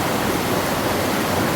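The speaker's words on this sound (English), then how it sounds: "near the old Waterfall" An old waterfall on a country road in western Massachusetts, a loud, steady broadband roar of falling water with no break or voices.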